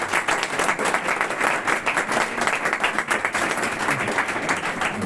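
Sustained applause from an audience at a book presentation, dense steady clapping filling the room throughout with no pauses.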